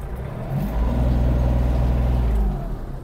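A Kubota GL-320 mini tractor engine is pushed to full throttle, its diesel drone rising into a loud, steady, close rev that holds for about two seconds before easing back down.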